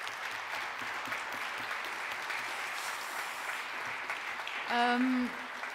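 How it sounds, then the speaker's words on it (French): A hall audience claps steadily for citizens at a closing ceremony, a sustained broadband patter of hands, with a brief voice rising over it near the end. "J'aimerais aussi qu'on leur donne une bonne main d'applaudissement."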